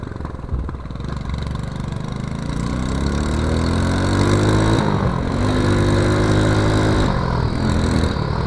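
A Win 110cc motorcycle engine runs close by on its own. It starts as a steady putter and then swells into a louder, rising drone that holds near full throttle.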